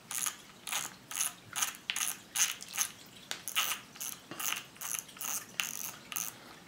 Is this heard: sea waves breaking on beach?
no